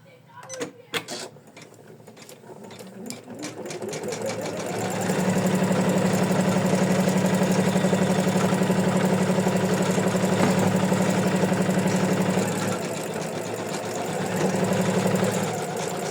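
An embroidery machine stitching a sequin bookmark, starting with a few clicks and clacks, then settling into a loud, steady motorized whir with rapid needle chatter that dips briefly before resuming, close up.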